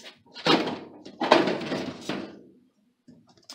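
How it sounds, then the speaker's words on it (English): A metal door panel on a drop-ceiling LED fluorescent light fixture is opened, giving a few close clunks and rattles of sheet metal in quick succession, followed by a soft tap. "Okay, I open the door, so"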